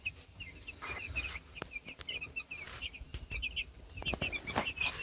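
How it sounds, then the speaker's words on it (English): Young chicks in a brooder peep in rapid high chirps, close by, with scattered wing flutters and scratching among them and no voices. "These chicks are outgrowing their brooder faster than we expected"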